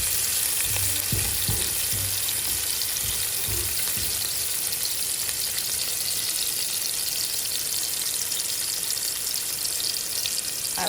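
Eggplant and shrimp fry in a hot pan with a dense, loud, unbroken sizzle that crackles steadily throughout, joined by a few faint low knocks near the start.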